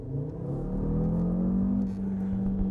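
An Audi RS Q3 five-cylinder engine revs up with a rising, sustained drone, loud and close, easing slightly near the end with no talk over it.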